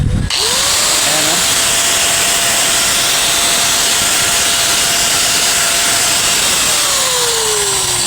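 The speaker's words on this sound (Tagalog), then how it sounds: "Tsaka maganda yung andar yung ating grinder." An INGCO 750-watt angle grinder, freshly repaired, runs steadily at close range with a loud, even whine after a brief start-up surge, then winds down near the end.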